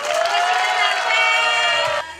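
A crowd at an outdoor seniors' sports meet in Hsinchu City cheers and claps in a loud, dense burst with whooping voices, lasting about two seconds before cutting off.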